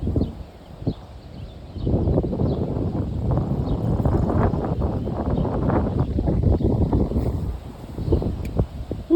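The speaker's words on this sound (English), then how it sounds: "Hopefully the wind doesn't sound too loud." Wind buffets a microphone at a river shoreline on a cloudy day, a loud, continuous rumbling gust broken by irregular thumps and rustles.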